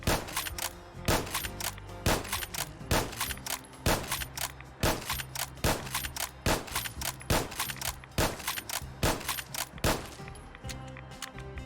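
A Winchester Model 1873 lever-action rifle fires in Fallout 4, thirteen sharp, loud shots at a steady rhythm roughly every second, each followed by the clack of the lever, then a quiet tail.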